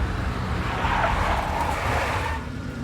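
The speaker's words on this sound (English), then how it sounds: "A big black Mercedes." A big black Mercedes skids in the video game Max Payne, a sustained tire screech and engine roar that holds steady then fades slightly at the end, with no speech.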